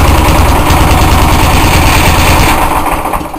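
A small engine in a shop running loud and close after starting, a steady buzzing idle with a dense low rumble that eases slightly toward the end, not long after its mixture screw and idle screw were adjusted.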